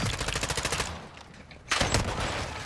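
Rapid automatic gunfire from the video game Modern Warfare 2 DMZ: a dense run of close, loud shots for almost a second, a brief lull, then another loud burst of fire.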